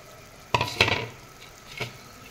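Small fish go into a boiling home-style curry and are stirred with a utensil, giving a few distinct splashy scrapes and a soft sizzle in separate bursts, close and moderately loud.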